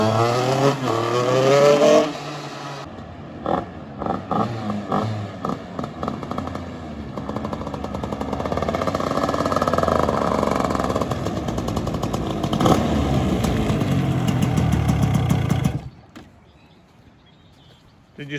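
A dirt bike or kart engine sputters and pops in uneven bursts after a choked start, then catches and revs loudly up close before cutting off abruptly.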